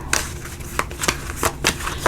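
Tarot cards are shuffled by hand in a few quick riffling bursts, close and crisp, with short rustling snaps spaced unevenly across a brief stretch.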